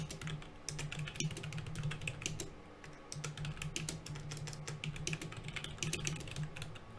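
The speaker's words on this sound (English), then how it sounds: "Sorry about all the typing." Steady, rapid typing on a computer keyboard fills the scene with dense, close clicks in quick bursts, with a brief pause about a third of the way through before the clatter resumes.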